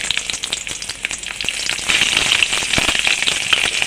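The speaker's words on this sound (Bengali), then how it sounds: "কাঁচা লঙ্কা ছুরি দিয়ে চিড়ে নিলাম দিয়ে দিলাম দুটো কাঁচা লঙ্কা" Two slit green chillies frying with nigella seeds in hot mustard oil, a loud, close sizzle with a steady hiss and frequent sharp crackles and pops throughout.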